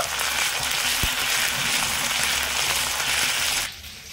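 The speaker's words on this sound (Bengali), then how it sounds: "হালকা করে নেড়ে ছেড়ে একটু ভেজে নেব" Ginger and green chilli frying in hot oil on a low gas flame, a bright steady sizzle with a soft knock of stirring, cutting off abruptly near the end.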